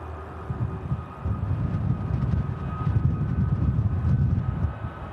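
A TUI Boeing 737 MAX airliner taking off from Manchester Airport, heard as a low, rising engine rumble at a distance with gusty wind buffeting the microphone.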